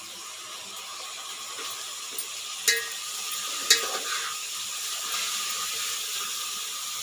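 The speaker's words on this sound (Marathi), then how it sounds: "भाजी टाकून झाली. भाजी ढवळायची." Fenugreek (methi) bhaji stirred in a pan, a soft continuous sizzle with a few scraping clicks of the spoon, fairly close and quiet, with no talking.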